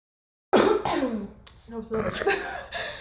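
A few sharp, close coughs burst out in quick succession after drinking something, with a brief pause and throaty clearing between them.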